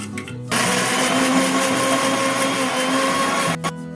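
An electric blender grinds ingredients with a little water into a green paste for Hariyali chicken, starting abruptly with a loud, steady whirring roar that runs for about three seconds before cutting off.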